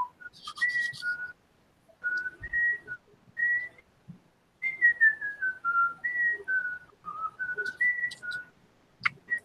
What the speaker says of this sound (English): do I need to whistle the song?